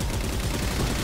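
Dense, continuous gunfire in the video game Halo 4 during a Legendary co-op campaign fight, a loud unbroken rattle of rapid shots filling the whole brief moment with no speech over it.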